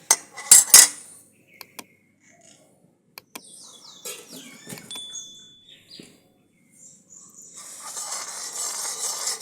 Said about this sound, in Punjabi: ਹੁਣ ਘਿਓ ਪਾਵਾਂਗੇ ਡੇਢ ਕੜਛੀ ਘਿਓ ਦੀ